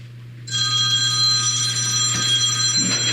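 A telephone rings loudly and steadily, a bright electronic trill starting abruptly after a short quiet moment and continuing to the end, with a low hum underneath and no talking.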